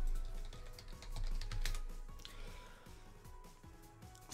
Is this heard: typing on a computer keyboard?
yes